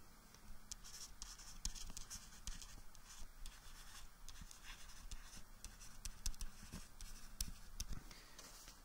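Marker or chalk writing on a board during a chemistry lesson, a steady run of close scratchy strokes and short taps that continues throughout with no talking.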